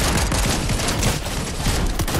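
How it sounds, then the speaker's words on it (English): Dense, rapid gunfire in the Fortnite video game: loud, continuous bursts of shots layered over one another for a couple of seconds, with no pause. "Someone shooting."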